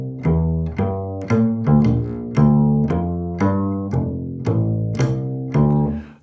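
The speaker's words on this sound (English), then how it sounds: "you'll get kind of like a swing sounding bass line." A walking swing-style bass line built on root, third, fifth and sixth, played as a steady run of about a dozen distinct plucked or struck low notes with a loping rhythm, loud and close with no talking.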